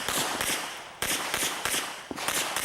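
Pistol shots at an IDPA shooting match at the Mecklenburg Wildlife Club, a rapid string of sharp, fairly loud cracks in quick bursts with echoing tails, no talk.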